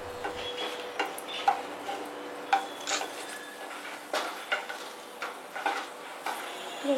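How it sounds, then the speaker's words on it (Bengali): Dried red chillies fry in hot oil in a wok, with a steady sizzle and repeated scraping stirs of a utensil against the pan, close and fairly loud, with no talking. "তেল গরম হলে শুকনো লঙ্কাগুলো দিয়ে একটু কালো রং আসা পর্যন্ত ফ্রাই করুন।"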